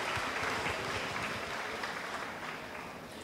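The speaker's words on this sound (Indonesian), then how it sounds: "Tepuk tangan dulu sekali lagi." Audience at a university public lecture claps again on request, a soft, steady wash of applause that gradually fades, heard at a distance without talking.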